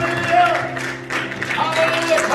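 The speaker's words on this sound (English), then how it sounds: "Would you give Jesus a good hand clap for free?" Church congregation clapping hands during a worship service, a rhythmic group clap blended with crowd noise and voices, with sustained musical tones underneath.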